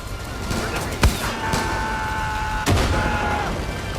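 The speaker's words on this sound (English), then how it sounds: "I'm gonna drop a bomb on these guys!" A bomb dropped from a plane explodes in Far Cry 5, with two sharp booms over a constant roar of battle noise and a steady tone running between them.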